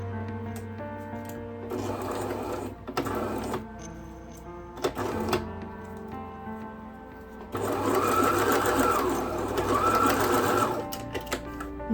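Short runs of a sewing machine stitching a quilted fabric wallet, with a few brief bursts and stops and then a longer, steady run near the end.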